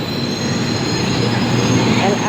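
An LRT train bound for Ampang pulls into a station platform, its steel wheels squealing in a thin high whine over a loud, steady roar and rumble of rolling stock that fills the whole stretch close by.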